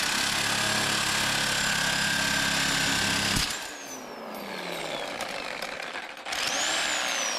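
A power tool with a worn, overheated blade cuts metal on a Coleman ATV fitted with a Predator 459 engine. A loud grinding whine runs for about three seconds, then cuts off into a quieter winding-down sound before the whine briefly picks up again.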